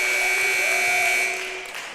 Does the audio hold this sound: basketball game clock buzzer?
yes